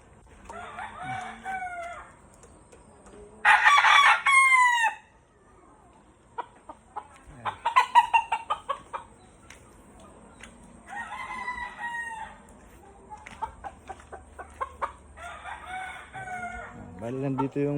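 Roosters and chickens in a muddy backyard: several crows ring out at intervals, some loud and close and others fainter, with soft clucking and rustling between them.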